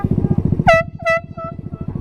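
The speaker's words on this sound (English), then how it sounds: "here's a little test of how loud this air horn is compared to my horn." A boat air horn mounted on a motorcycle blasts in two loud, bright bursts over the steady pulsing idle of the bike's engine.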